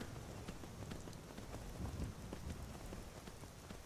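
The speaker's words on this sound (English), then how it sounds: "I'm quite enjoying the rain at the minute" Steady rain falls in the video game Skyrim, a continuous soft hiss of drops spread evenly across the whole stretch with no talk over it.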